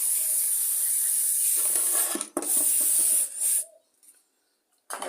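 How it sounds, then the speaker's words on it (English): Brake cleaner sprayed from an aerosol can onto a Briggs and Stratton tank-mounted carburettor, a steady loud hiss running about three seconds, a brief break, another short burst, then silence before a final spurt. "You're going to take some brake cleaner, or you can use carb clean, what you like. I'll give it a brake cleaner at the moment"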